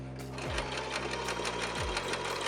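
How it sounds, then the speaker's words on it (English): Sewing machine top stitching a petticoat panel with horsehair, a near, steady motorized hum with fast needle chatter and a couple of brief low speed changes. "and then top stitch it to completely seal it"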